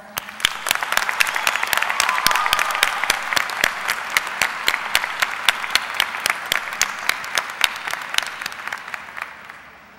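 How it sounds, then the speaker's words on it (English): An audience at a 2007 Farmington Schools graduation ceremony applauds: many hands clap in a moderately loud, sustained burst, individual sharp claps standing out at the edges, gradually thinning and tapering off toward the end. "I ask the graduates and the staff of the Farmington Schools to join me in applauding all your parents."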